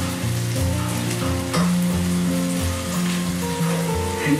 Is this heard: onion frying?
yes